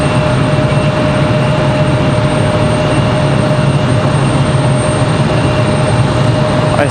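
An Icelandair Boeing 737 MAX 9 flaring onto runway 9 at a stormy Raleigh-Durham airport, a loud continuous engine roar and rushing noise, steady throughout with no speech.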